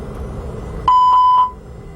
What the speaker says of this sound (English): I'll perform a fire warning test before starting the APU.